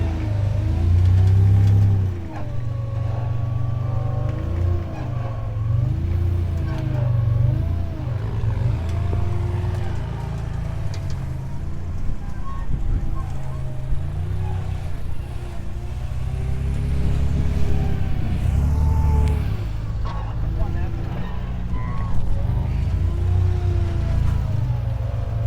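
Rear-wheel-drive rock-crawling buggy at Sand Hollow, its engine rumbling low and revving in loud, uneven surges as it pushes up and over a rock ledge, close and steady throughout with no voices.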